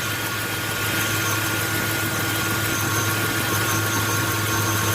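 Electric cooling fans on a 2004 Chevrolet Suburban, newly installed, whir steadily with the engine idling, a continuous broadband rush over a low engine drone, close and constant throughout with no talk.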